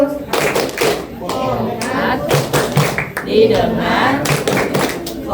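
Schoolchildren in an elementary classroom clap a rhythmic focus pattern in loud, close bursts, with their voices chanting along between the claps.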